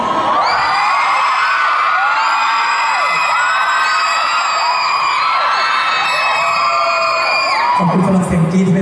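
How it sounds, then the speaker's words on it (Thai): A large crowd shrieks and screams continuously at high pitch, loud and close, with overlapping whoops throughout, at a live stage show. "ขอบคุณสำหรับเสียงกรี๊ดที่เป็นแพทเทิร์นนะฮะ"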